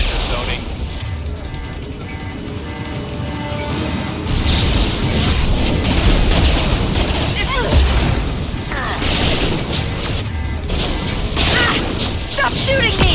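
Heavy gunfire and booming blasts from a Mass Effect 2 firefight, loud and continuous with dense overlapping shots and crashes for the whole stretch.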